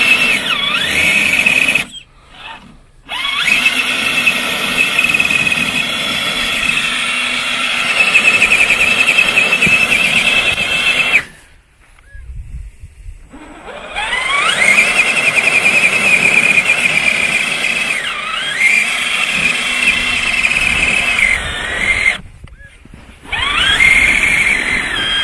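A Traxxas RC car with portal axles drives in a test run, its electric motor whining steadily at high pitch with rising and falling sweeps as it accelerates, broken by a few short silent gaps, no speech.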